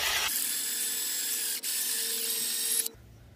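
A lawn mower blade grinds in a blade sharpening system, giving a steady high-pitched whine and hiss for several seconds with a brief dip partway through, then stopping abruptly.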